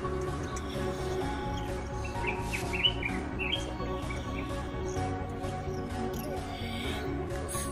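Many birds chirping and tweeting in quick, overlapping calls over a steady background hum at a seaside, fairly close and lively throughout.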